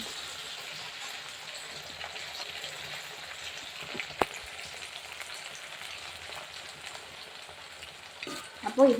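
Jackfruit pieces deep frying in hot oil for a jackfruit chilli snack: a steady, close sizzle and crackle that runs throughout, with a sharp clink near the middle and light stirring noises toward the end.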